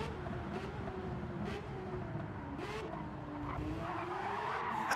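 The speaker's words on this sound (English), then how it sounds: "A little tire spin." A Gran Turismo 7 Carrera Cup race car spins its tires, giving a steady, sustained squeal over engine drone that holds for several seconds and swells slightly toward the end.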